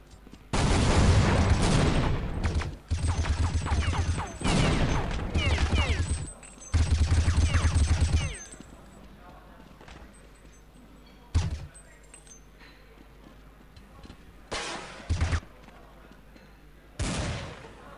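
Several loud bursts of rapid gunfire separated by pauses, followed by a few shorter isolated shots, with faint background noise in between, from a Counter-Strike match including Desert Eagle pistol shots.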